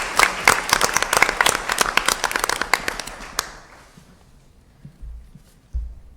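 A board meeting audience gives the cast and crew a short burst of applause, a dense patter of many hands that fades out after about three seconds, followed by faint room noise and a couple of low thumps.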